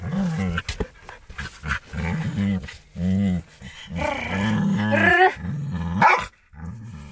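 A herding-breed dog growls and snarls in repeated rough bursts, close and loud, with a person speaking in between.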